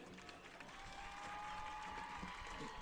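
A crowd at a high school sports event applauds the seniors, a faint, distant wash of clapping and cheering that holds steady throughout.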